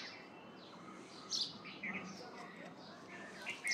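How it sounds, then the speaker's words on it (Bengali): Small birds at a jujube tree give scattered faint chirps and tweets, with a few brighter calls standing out against soft outdoor background noise. "এই দেখুন, ওই দেখুন পাখি"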